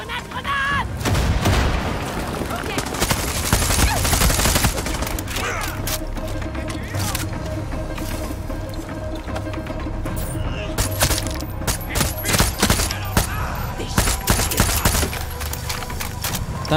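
Rapid bursts of gunfire and sharp cracks from a firefight in the video game Far Cry 6, sustained and loud throughout with dense overlapping shots and occasional heavier booms, a voice talking at points.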